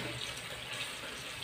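Tap water runs steadily into a sardine can to rinse out the leftover juices, a continuous close splashing wash with no talk.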